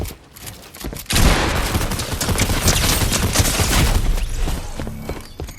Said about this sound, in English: I piece this kid up, and then choke my shots and end up dying.